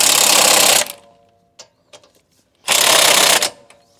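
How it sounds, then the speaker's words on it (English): An impact wrench on brake bolts gives two loud mechanical bursts, each lasting under a second, with a brief quiet gap and a few small clicks between them. "hit them with an impact or a torque wrench to make sure they're securely tightened"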